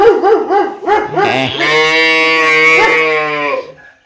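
A dog's few quick, close barks give way to a long, drawn-out wailing cry, loud and near.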